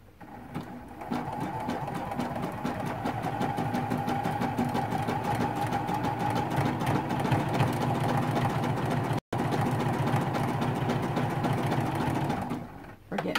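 A sewing machine stitching through a stained glass flower quilt, a close, steady rapid whirring hum running almost continuously with one very short pause.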